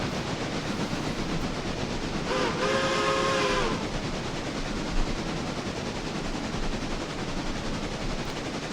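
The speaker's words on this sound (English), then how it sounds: "It's a really heavy local there for this locomotive, isn't it?" A heavy local freight train hauled by a small-drivered steam locomotive in the railroad game Railroader, a steady rumbling roll with a brief whistle-like tone near the middle and a single sharp clank later.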